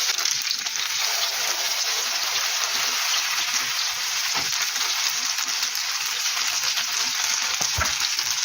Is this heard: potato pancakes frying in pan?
yes